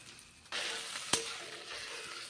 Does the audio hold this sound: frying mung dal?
yes